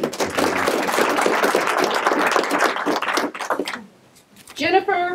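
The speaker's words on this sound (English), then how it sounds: "please give him a round of applause for his years of service to our country" Dense applause from an audience at a military swearing-in ceremony honouring years of service, steady for about three seconds before fading to near quiet, followed by a voice starting to speak.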